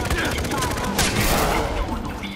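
Rapid bursts of automatic gunfire in the video game Far Cry 4, loud and dense, overlapping into a continuous volley with a sharper spike near the middle.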